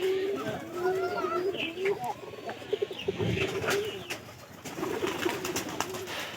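Pigeons coo repeatedly in a soft, rolling rhythm close by, outdoors at a home loft, with faint voices talking in the background.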